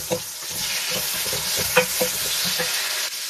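Loud, steady sizzle of chopped tomatoes hitting hot oil with sautéing garlic, ginger and onion in a pan, with a few soft stirring scrapes and taps close by.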